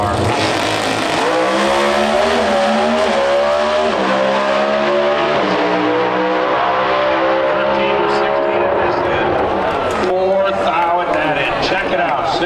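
Pro Stock drag cars launching at the NHRA Route 66 Nationals in Chicago, loud high-revving engines roaring and rising in pitch as they pull away, with an announcer talking over the noise.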